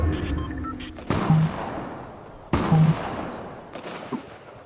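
Gunfire from people on a hilltop, two loud sharp bangs about a second and a half apart, each with a long echoing decay outdoors, followed by fainter distant pops.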